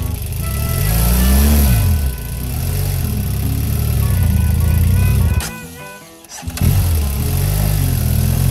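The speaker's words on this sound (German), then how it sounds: "in diesem Fall gräbt sich das Motorrad mit zwei Radumdrehungen sofort ein" A motorcycle engine revs hard on a beach as its deep-tread rear wheel digs into sand, rising and falling in loud bursts, briefly dropping out before surging again.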